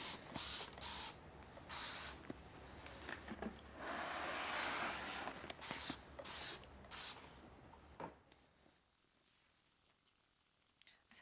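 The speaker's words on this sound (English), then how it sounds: "I'm just gonna use some Pure Crop 1 and just do a little bit of a spray." Pure Crop 1 sprayed onto the leaves of a Monstera Albo houseplant in a string of short, hissing trigger-sprayer bursts, about eight close pumps spaced irregularly, then quiet at the end.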